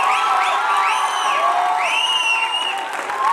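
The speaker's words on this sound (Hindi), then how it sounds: "भरपूर तालियां होनी चाहिए इनके लिए" A theatre audience at an Urdu stage play cheers and applauds loudly, with whoops and rising shouts over continuous clapping throughout.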